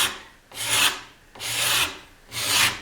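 A hand scraper shaves wood on an electric guitar neck in three slow, even strokes, each a close, dry rasping sweep with short pauses between them.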